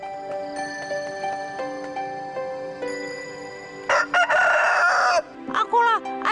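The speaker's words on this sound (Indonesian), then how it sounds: "kalian pasti akan dengar ayamku berkokok" Petok, the rooster of Cindelaras in an animated folk legend, crows in loud, drawn-out bursts after a few seconds of quiet, tonal background music.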